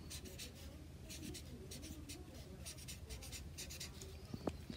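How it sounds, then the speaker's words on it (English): A marker writing a name on a paper booklet cover, heard as faint, soft scratchy strokes in short bursts in a quiet room. "we are going to get our marker and we are going to write our name."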